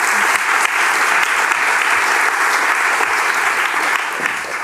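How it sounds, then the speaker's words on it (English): Sustained audience applause fills a hall at a graphic design talk event, a dense steady clatter of many hands clapping, loud and continuous before tapering slightly at the end. "Yes, give her a warm applause."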